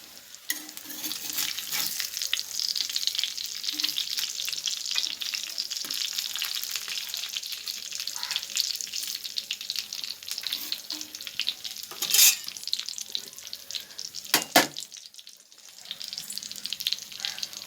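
Steady hiss of mackerel frying in a hot pan, continuous and close, with a couple of brief louder bursts of sizzle partway through.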